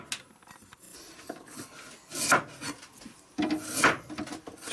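Raw carrots being processed into carrot chips in a home kitchen, giving loud, irregular scraping and slapping bursts that swell and fade in clusters, with no talking.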